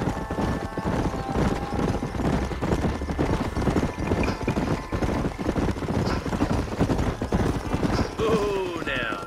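Several horses trot through a canyon in Red Dead Redemption 2, their hooves clip-clopping in a dense, steady clatter close by. A short whinny rises near the end.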